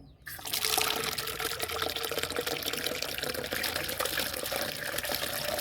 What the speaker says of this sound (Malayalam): ഇനി ഇതിലേക്ക് നമുക്ക് കുറച്ച് വെള്ളം ഒഴിച്ച് കൊടുക്കുക.